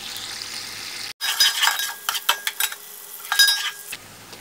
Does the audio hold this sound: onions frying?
yes